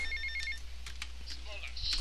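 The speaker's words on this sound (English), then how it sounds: "I got a phone call." A phone rings in the Grand Theft Auto Vice City video game, a quick repeating electronic trill at the start over low game background noise with brief chirpy effects after.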